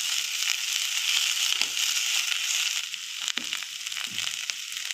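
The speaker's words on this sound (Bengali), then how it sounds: "এবার আমি এই যে কাটা বাঁধাকপির পাতাটা দিয়ে দিলাম। দিয়ে এটাকে একটু ভাজবো" Chopped cabbage leaves fry in a pan over low heat, giving a loud, steady, close sizzle that fades slightly toward the end with a few sharp crackles.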